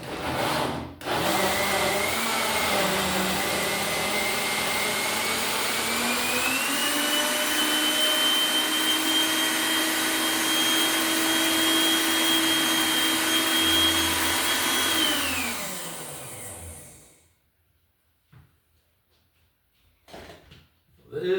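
A malfunctioning blender motor roars steadily for about fifteen seconds, its pitch rising briefly, then winds down and cuts off, leaving quiet with a few soft knocks.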